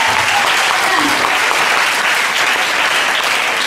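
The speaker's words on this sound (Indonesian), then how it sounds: "tepuk tangan dulu bagi semua" A dharma-talk audience claps for a while, loud and continuous, with a few voices faintly mixed into the dense applause.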